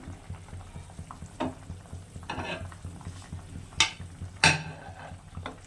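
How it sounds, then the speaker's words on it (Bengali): Low bubbling and simmering from a pan of chitol fish curry with new potatoes on the stove, broken by several clanks and scrapes of a spoon against metal. "মাছের ঝোলটা ফুটছে দেখুন"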